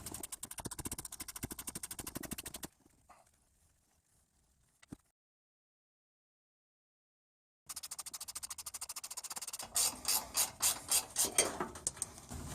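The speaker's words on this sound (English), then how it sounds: "I use my 13 millimeter ratcheted box wrench" A 13 mm ratcheting box wrench works nuts on a Ford Explorer rear strut, giving rapid close ratchet clicks, then a long quiet gap, then more clicking and sharper rhythmic ratchet bursts near the end.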